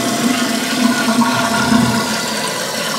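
A household toilet flushing right after its broken flush lever was replaced, a loud steady rush of swirling water lasting about three seconds with no talk.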